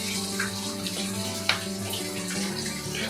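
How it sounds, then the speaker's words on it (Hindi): Water flowing steadily inside a cave temple in Shalimar Bagh, Delhi, a continuous close trickling and splashing wash with one sharp click partway through. "और बह रहा है देखो पानी।"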